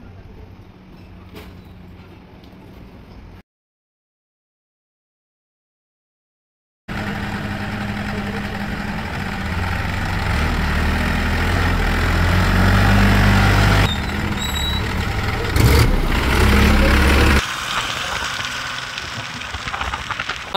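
Mahindra Oja 3140 tractor with a rotavator, diesel engine running with a steady low rumble that grows louder and heavier as it moves along, cut by a short silent gap.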